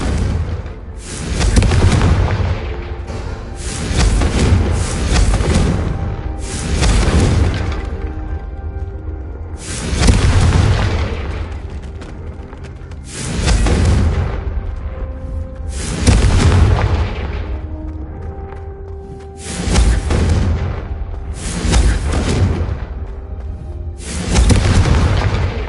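Confringo blasting spells explode one after another in the game Hogwarts Legacy, with about eight loud, booming blasts, each a sharp burst that rolls off into a rumbling tail, spaced a few seconds apart.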